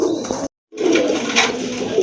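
Pigeons cooing close by in a pigeon collection, including a sky-blue crested pair, with continuous soft murmuring coos broken by a short silent gap, no talk.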